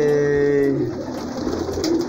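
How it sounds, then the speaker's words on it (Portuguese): Racing homing pigeons coo close by, a couple of soft, throaty rolling calls with a faint flutter of other birds and a brief murmur of a voice in the background. "Olha aí a galera de pombo, olha aí."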